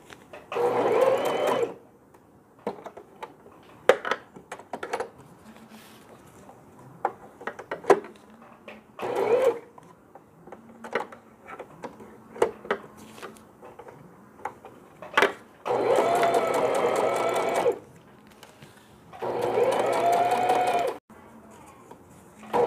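Domestic sewing machine stitching fabric for a hanging baby laundry bag, running in several bursts of steady mechanical whirring, two long runs near the end, with quieter handling sounds in the pauses.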